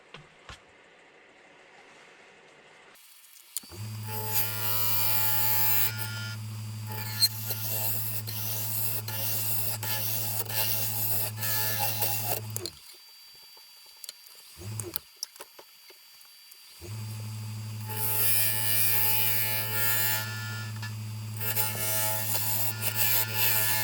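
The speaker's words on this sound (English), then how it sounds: "As you can see, it's shaving ribbons." Wood lathe spinning a wet log being turned into a lamp shade, a deep steady motor hum with loud scraping and ripping bursts as the tool cuts, stopping and restarting.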